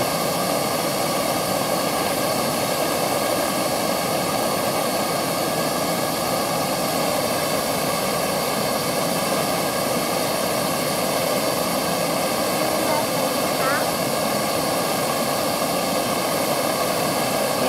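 Soto Microregulator and Monatauk Gnat gas canister stoves burn side by side in moderate weather, making a loud, steady, unbroken roaring hiss that holds level throughout.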